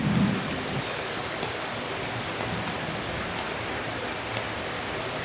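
A waterfall and stream at a riverside homestay in Chiang Dao, Chiang Mai, make a constant, even rushing of water that continues on its own with no voices.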